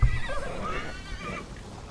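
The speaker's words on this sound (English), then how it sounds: "Horse, why do you run from me?" A horse in the Assassin's Creed Valhalla video game gives a close, clear whinny with hoof clatter at the start, the neigh trailing off over a couple of seconds.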